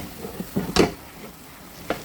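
Samosa filling frying in a pan for Ramadan saboosa, stirred with a few quick scraping strokes over a soft sizzle, close and brief.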